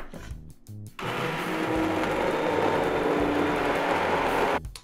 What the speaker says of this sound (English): now we're just going to blend everything together so it makes it nice and creamy